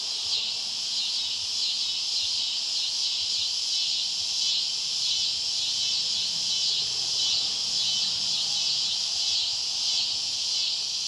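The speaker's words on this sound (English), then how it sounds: "And the cicadas are singing at me." Cicadas sing in a dense, continuous high-pitched drone that holds steady and even for the whole stretch, moderately loud, with no talk.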